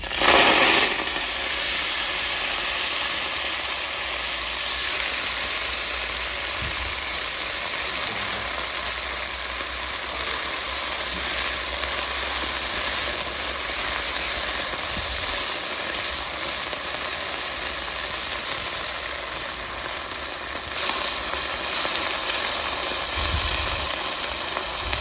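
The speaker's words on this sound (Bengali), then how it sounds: "মেথি শাকটা আমি ভেজে নেবো" Fenugreek leaves fry in hot mustard oil, giving a steady, dense sizzle that holds evenly throughout with no talking.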